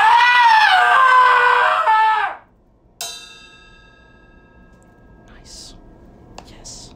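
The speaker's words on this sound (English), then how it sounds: "Yeah. Scream again." A person screams loudly for about two seconds, a strained high wavering cry that cuts off abruptly, followed by a sharp knock and then quiet room noise with faint whispery sounds.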